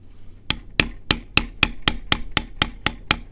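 A bevel tool is struck repeatedly into leather while tooling a belt, giving a steady series of about eleven sharp, evenly spaced taps, close up and distinct with no talking.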